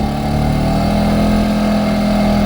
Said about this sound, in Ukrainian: одразу відчутно, що навантаження збільшилося, він почав гучніше працювати